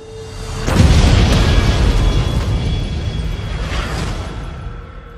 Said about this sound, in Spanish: Una explosión sacudió a la ciudad hoy